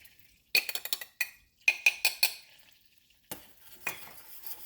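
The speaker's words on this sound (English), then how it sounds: "I'm going to get that butter mixed in really good into just a paste." A metal spoon scrapes and clinks against a pan while stirring flour into bubbling butter to make a paste, in several quick rhythmic bursts of close, clattering strokes separated by short pauses.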